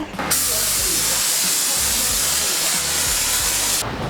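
A car is sprayed at a car wash in Aizu, Japan. A steady, close, hissing jet of spray runs for several seconds, with a mechanical rumble pulsing underneath.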